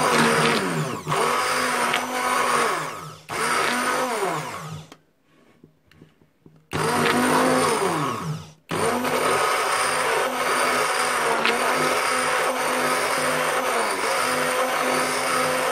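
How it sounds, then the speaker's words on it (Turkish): A blender whirs loudly and steadily while whipping cream, with a short pause near the middle before the motor starts up again and keeps running. "buraya döktüğümüz krem şantiyi çırpıyoruz bir blender ile"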